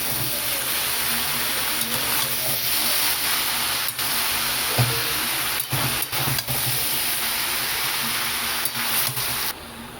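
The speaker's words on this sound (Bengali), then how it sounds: "এবার আমি গ্যাসের আঁচটাকে হাই করে দিচ্ছি, আর সব মশলা দিয়ে সবজিটাকে ভালোভাবে মিশিয়ে নেব" Vegetables and ground spices are stirred together in a pan over a high gas flame, producing a constant loud hiss with intermittent scraping knocks from the spoon.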